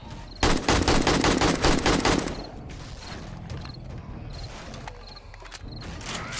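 Automatic rifle fire in the video game 7 Days to Die, firing 7.62 ammo at dogs on horde night: a fast, loud burst of shots, then scattered single and double shots at irregular intervals.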